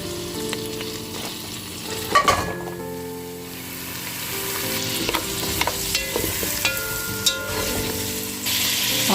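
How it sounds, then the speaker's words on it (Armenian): Frozen meatballs fry in melted butter in a pot with a continuous sizzle. Scattered clinks and scraping from stirring rise above it, and one louder clatter comes near the start. "կաթսայի մեջ կարակն եմ հալացնում և մեր սառեցրած մսային գնդիկները պիտի տապակեմ"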